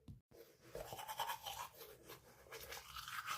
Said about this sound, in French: il est temps de se brosser les dents